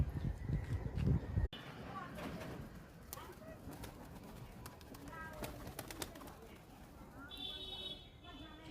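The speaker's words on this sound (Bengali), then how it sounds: "এটা কি পায়রা আছে? ম্যাড্রাসি।" Madrasi pigeon cooing softly in low, repeated calls, mixed with a brief loud rumble at the start and people talking nearby.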